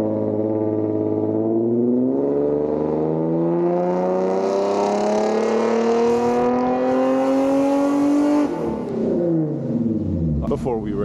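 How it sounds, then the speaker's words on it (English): A tuned car exhaust running a burble tune climbs steadily through a long, loud rev, then drops off sharply on lift-off with a brief crackle near the end. "So I decided to go with the burble."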